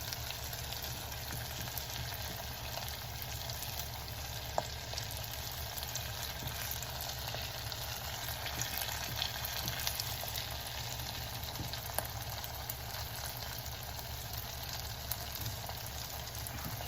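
Garlic and horseradish fries sizzle in hot oil, a dense, steady crackle running unbroken with occasional sharper pops, close and clear with no talking.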